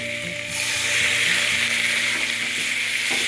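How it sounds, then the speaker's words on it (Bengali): Pumpkin curry with green chillies being stirred in a hot pan, a loud, continuous close-up sizzle with soft scraping strokes of a spatula underneath. "এবারে দেবো কটা কাঁচা লঙ্কা, দিয়ে একটু নেড়ে চেড়ে"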